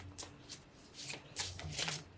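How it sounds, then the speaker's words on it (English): Deck of oracle cards being shuffled close up, a quiet series of quick riffling bursts and soft card slaps with no talking. "Let's shuffle again for card number 2 and prompt number 2."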